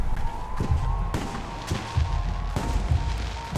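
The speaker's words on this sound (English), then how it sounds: "The noise from those fireworks should cover the sound of gunfire." Fireworks in the video game Alpha Protocol burst in a rapid, loud series of sharp cracks and booms over a steady festive din, with several distinct blasts spread across the scene.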